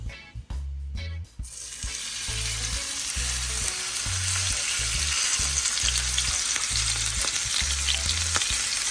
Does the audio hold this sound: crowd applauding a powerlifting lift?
no